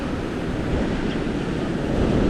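Large ocean waves and surf pound the Outer Banks shore during Hurricane Erin, a loud, continuous roar of crashing water mixed with heavy wind buffeting the microphone.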